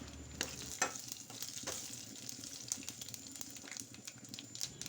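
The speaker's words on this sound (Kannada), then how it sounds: "ಸಾಸಿವೆ ಸಿಡಿಯೋದು ನಿಮ್ಗೆ ಗೊತ್ತಾಗುತ್ತೆ ನೋಡಿ" Mustard seeds for a village-style tomato and raw banana sambar fry on a stove at full simmer, spluttering with quiet crackles, sharp pops and a soft sizzle, faint and close with no speech.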